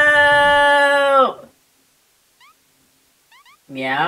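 A cartoon-style cat meows in a long, loud harmonic cry that slides downward, then after a near-silent pause with faint chirps a second meow begins, close and clear.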